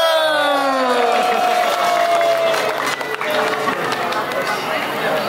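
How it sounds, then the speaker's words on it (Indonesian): A crowd at a Balinese Pujawali temple festival in Bekasi, held alongside a Kecak dance performance, breaks into applause and cheering for a guest. Sustained clapping mixes with crowd noise and bright tonal sweeps at the start. "Tepuk tangan dulu buat Pak Kompiang."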